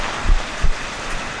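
Heavy rain pours down at a rural Japanese train station, a dense, steady hiss of falling water with a couple of soft low thumps, close and continuous throughout.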